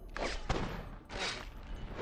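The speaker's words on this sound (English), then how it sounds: "you might want to block these gunshots now" Bursts of gunfire in the video game BloodRayne Terminal Cut, two loud clusters of shots separated by a short pause, sharp close reports without any talk.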